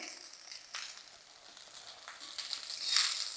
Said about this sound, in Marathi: आता आपल्याला गॅस वाढवायचा आहे मिडियम टू हाईटवरती आपल्याला मस्त असा फ्राय करून घ्यायचा आहे